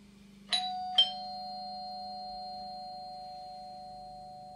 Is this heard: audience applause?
no